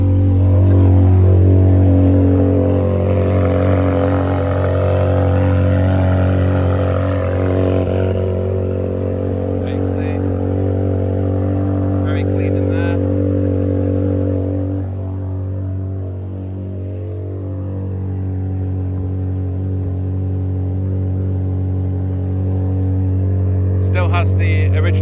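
Ferrari 360 Modena with a gated manual gearbox idling steadily, a loud, close, even engine hum holding for the whole stretch with a slight drop in level partway through.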